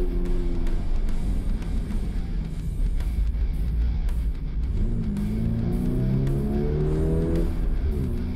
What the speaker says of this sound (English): We then went out to bed the brakes in.